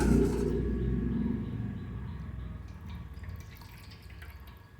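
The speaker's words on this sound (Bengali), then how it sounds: "গোপাল সোনাকে স্নান করানো খুব পবিত্র" Water drips and splashes while a Gopal idol is bathed, a soft trickle that fades from a fuller pour into scattered faint drips nearby.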